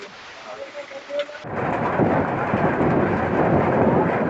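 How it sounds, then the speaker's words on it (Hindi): Rain with thunder during a hailstorm, with a cold snap over farmland. A softer patter with faint tones gives way to a loud, dense, steady downpour carrying a low rumbling roar, close and continuous. "वहीं अन्य क्षेत्रों में बारिश हो रही है।"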